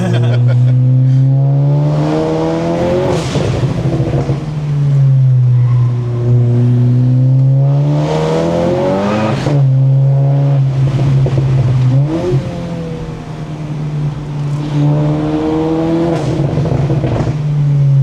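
A 450-wheel-horsepower GLI accelerates and revs hard in repeated rising surges, the engine loud and close, with brief drops between pulls.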